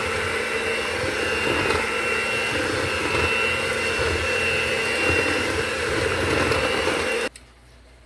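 An electric mixer beats cake batter with milk for a kiwi cake, a loud, steady whirring drone that holds for about seven seconds, then cuts off abruptly.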